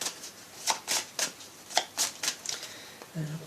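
Tarot cards are shuffled before a reading, a series of crisp riffling slaps at an uneven rhythm, close and clear, with a brief voice beginning at the end.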